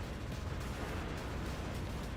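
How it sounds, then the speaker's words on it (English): A bomb detonates in the shoot'em up Under Defeat, blasting away the smaller cannons on an enemy ship in a dense, continuous roar of low rumbling blasts with no talk over it. "a bomb to clear out a lot of the smaller cannons on the ship"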